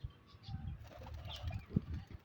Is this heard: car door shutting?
no